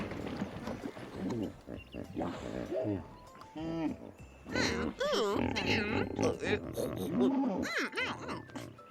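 A voice imitates a hippopotamus with drawn-out guttural grunts and growls, broken by bits of laughter and short pauses, close to the microphone.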